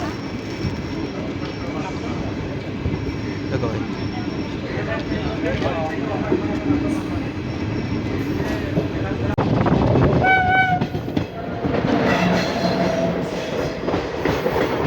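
Saharsa–Sealdah Hate Bazare Express train rolling through Narayanpur railway station, a steady rumble and clatter of rail cars with a brief horn near the end, while someone talks over it.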